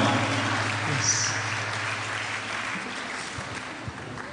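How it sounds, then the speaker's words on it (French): Audience applause at an anniversary concert for a radio station, a steady, moderate wash of clapping from a crowd that fades slightly over a few seconds, heard without talk. "Vos applaudissements, s'il vous plaît."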